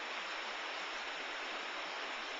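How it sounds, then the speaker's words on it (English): Scout Falls runs high with snowmelt runoff on Mount Timpanogos, a steady broad rushing roar of falling water heard from a distance, continuous and even with no voices. "You can see Scout Falls, actually multiple Scout Falls."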